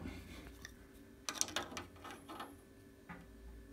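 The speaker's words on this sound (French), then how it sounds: "Maintenant, je vais mettre un petit coup de clamelette, un ou 2 petits coups." A 15-21 bolt being snugged with a small wrench during a water-leak seal repair, giving a few quiet, close metallic ratcheting clicks in short bursts.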